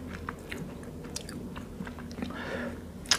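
Soft, close chewing of a cockle salad with salted egg yolk, with small irregular crunches and wet mouth sounds scattered over a quiet background and a sharper click at the end.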